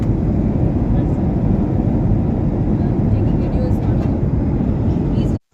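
Airplane cabin noise during flight makes a loud, constant low roar that fills the clip evenly and then cuts off abruptly near the end.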